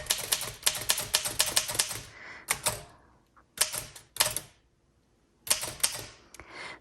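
A 1922 Underwood 3-12 typewriter clacks out rapid bursts of keystrokes in quick runs, separated by short pauses and a carriage-return ding and slide, close and crisp with no talking.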